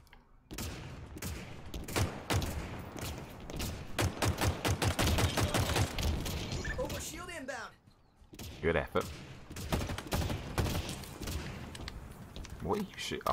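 Rapid bursts of gunfire fill an online shooter video game match, with dense, loud automatic volleys and a brief lull midway before the shooting resumes. Someone talks over the action.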